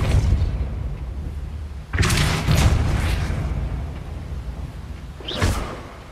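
Depulso spell cast in Hogwarts Legacy: a sudden whooshing burst lands about two seconds in with a thumping impact, followed by a rumbling tail and a second sharp swish near the end, over a steady low game ambience.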